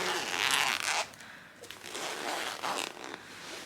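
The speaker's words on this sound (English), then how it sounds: "they have this zip here, the silver zip, which is the one that sucks all the" Compression zip on a fabric packing cube being pulled shut, a close, crisp rasping zipper run followed by a few shorter tugs.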